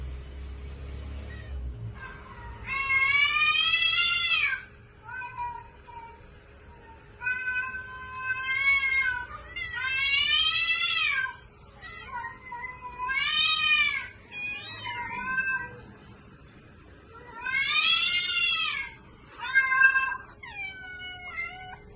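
Several cats meow and yowl in long, drawn-out wailing cries that repeat one after another with short quiet gaps, loud and close.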